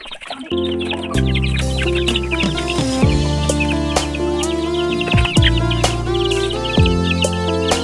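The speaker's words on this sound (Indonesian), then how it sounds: "ayam-ayam masih berebutan dan nungguin pakan tambahan." A flock of chickens waiting for fermented feed clucks and squawks continuously, close and busy, with overlapping calls and occasional sharper cries.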